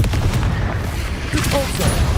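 Spell blasts from the Confringo curse in the video game Hogwarts Legacy, dense booming bursts packed close together and loud throughout, with a voice shouting spell names over the barrage.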